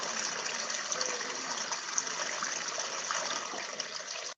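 A rocky creek in an Alexa adventure game, its water rushing and gurgling in a steady, moderately loud stream that continues without a break.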